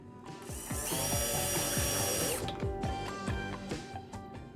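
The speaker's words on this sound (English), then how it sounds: "I'm screwing these all in partially, really almost all the way down, just to make sure that everything lines up." A power screwdriver drives screws back into a piece of furniture being refinished, with a loud whirring run followed by rapid ratcheting clicks and shorter bursts nearby, and no talking.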